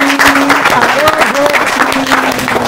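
Studio audience applause for the Malian robotics champions of Africa on a TV show set, dense steady clapping with a sustained musical tone and voices mixed in, loud and continuous.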